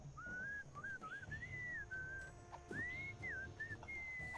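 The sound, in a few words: enchanting whistling in Sam & Max video game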